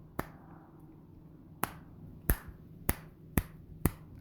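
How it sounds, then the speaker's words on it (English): Six sharp finger snaps, close and crisp, crack at irregular intervals in a quiet room, the first ones spaced widely and the last few coming in a quicker run. "I can't even snap my fingers anymore."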